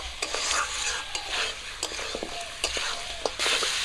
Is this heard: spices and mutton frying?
yes